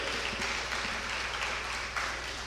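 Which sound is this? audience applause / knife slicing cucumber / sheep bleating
audience applause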